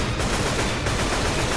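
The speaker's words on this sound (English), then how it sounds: "I'm going to shoot the rock out of the air." Rapid gunfire in Left 4 Dead, fired at a thrown rock in mid-air, sounding as a dense, loud, continuous burst of shots with no talk over it.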